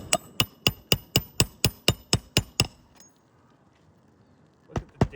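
A roof snake tool strikes a shingle roof in a quick run of about ten sharp, evenly spaced metallic hits, then pauses before two more blows, close and loud with no talking.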